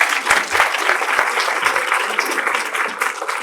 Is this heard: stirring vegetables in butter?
no